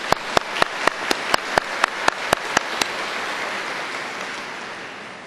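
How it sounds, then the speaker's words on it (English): A steady, evenly timed run of about a dozen crisp hand claps at a governance keynote, ending abruptly after a few seconds and leaving a soft room hum. "let's give Dr. Andringa another round of applause."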